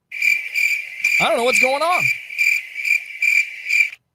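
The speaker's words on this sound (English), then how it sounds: "I hear crickets right now." Steady, pulsing cricket chirps fill the whole stretch, loud and close, with a brief burst of talk breaking in over them partway through.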